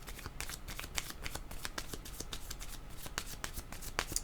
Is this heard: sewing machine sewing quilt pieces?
no